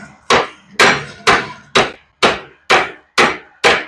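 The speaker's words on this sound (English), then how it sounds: "See if I can remember how to get on my bending fork here." Hot metal on a blacksmith's bending fork, struck in a steady series of eight sharp, loud hammer-like blows about half a second apart, close and alone.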